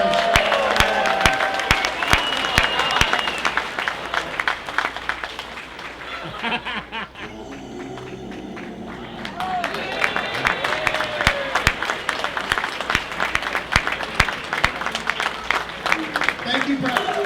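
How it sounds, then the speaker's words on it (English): A convention crowd at G-Fest applauds a first-time cosplayer with dense, sustained clapping and some cheering and laughter, briefly dipping midway before swelling again, while a presenter talks over it at times. "let's give him a big round of applause"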